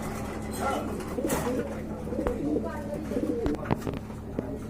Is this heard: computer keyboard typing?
no